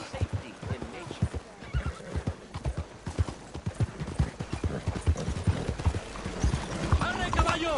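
Horse hooves in Red Dead Redemption 2 clip-clop in a brisk, even rhythm close by, with a whinny and a voice speaking over the steady trotting.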